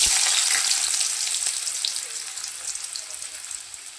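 Potatoes frying in hot oil give a loud, even sizzle that starts strong and slowly settles, crackling on its own with no talk.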